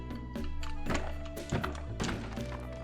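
Wooden crates washed up on a beach are broken open in Stardew Valley, giving a few soft game thunks and taps over steady background music, with no talk.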